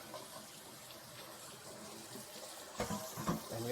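Tap water runs steadily into a sink while a Berkey water filter is cleaned, a constant close splashing wash with a few louder clatters and splashes near the end.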